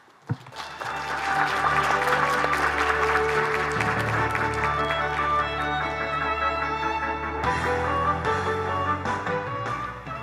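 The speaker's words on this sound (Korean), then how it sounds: "큰 박수로 이사장님을 무대로 모시겠습니다." Applause from the audience at a KOICA development cooperation forum opening ceremony as the chairman is invited to the stage: a sustained wash of clapping that swells quickly and stays full, with a tonal musical bed running beneath it.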